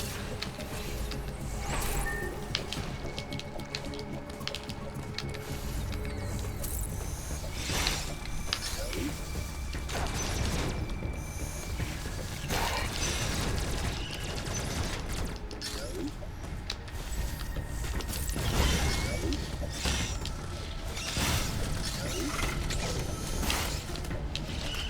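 Mechanical whirring, creaking and clanking of an elevator ride in the video game Metroid Dread, a steady dense rumble lasting throughout with scattered metallic ticks, no talk over it.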